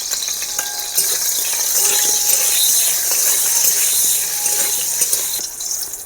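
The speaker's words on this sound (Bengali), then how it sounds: "কড়াতে তেল দিয়ে দিয়েছি, ওই তেলে আমি কামরাঙাগুলো হালকা করে ভেজে নেব" Star fruit frying in hot oil in a wok, a steady close sizzle and hiss with light stirring clatter, fading slightly near the end, with no voices.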